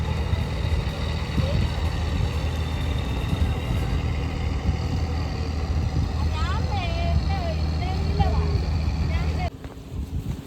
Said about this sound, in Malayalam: കേടായ 2 ബോട്ടിനെ വലിച്ചുകൊണ്ട് വരുന്ന ദൃശ്യം നമ്മൾ കാണാണ്ട.